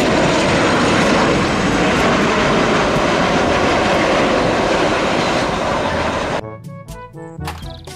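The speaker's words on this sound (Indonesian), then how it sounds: "Pesawat terbang." A loud, steady airplane engine roar runs for several seconds, then stops abruptly into a few scattered clicks and knocks.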